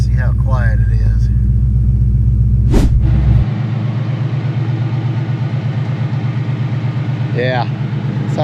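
Tuned Gen 3 car engine idling close by with a deep steady rumble, a brief rev blip partway through, while someone talks over it.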